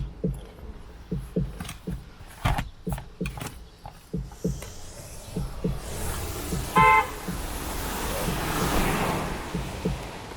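A bus horn honks once, briefly and fairly loud, in street traffic, after a run of close footsteps and under steady road and wind noise.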